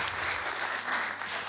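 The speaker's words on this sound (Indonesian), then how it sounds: "Tepuk tangan." Brief, moderately quiet clapping from a gathered church youth group, with a steady patter of many hands over a short stretch.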